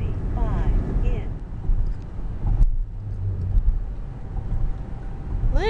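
A car drives on highway I-95 heading toward the George Washington Bridge. There is a steady rumbling road and engine noise with wind buffeting, and brief whooshing passes from other traffic.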